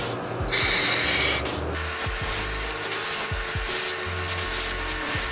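An aerosol spray paint can fitted with a Krewline 210 stencil cap gives a close hiss in a one-second burst, then several shorter sprays separated by clicks and handling noise.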